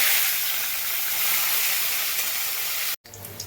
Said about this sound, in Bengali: তেল তো আমার গরম হয়েই গেছে। আমি এবার মাছগুলো আস্তে আস্তে দিয়ে দেবো।